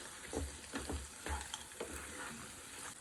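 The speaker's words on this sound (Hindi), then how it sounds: "और ये अभी जो काजू और बादाम को हमने फ्राई करके रखा था, अब अपने इस हलवे में ऐड कर देंगे और हलवे को भून लेंगे।" Black carrot halwa with fried cashews and almonds is roasted and stirred in a pan, giving faint rhythmic scraping strokes over a low, quiet sizzle.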